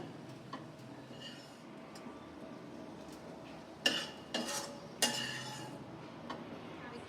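A spatula scrapes fried egg bhujia out of a pan into a bowl, giving a few brief metallic clinks and scrapes over a quiet kitchen background.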